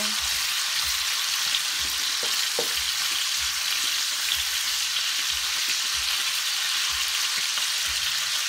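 Bacon fries in a pan with a steady, fairly loud crackling sizzle that never lets up, along with a few soft pops, and no voices are heard.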